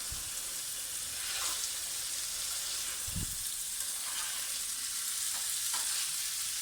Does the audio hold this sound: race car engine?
no